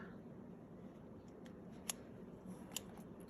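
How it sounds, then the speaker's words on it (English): Scissors snip through the curly wool stem of a small needle-felted pumpkin, giving two quick, crisp close cuts over a quiet background. "Give that a little snip."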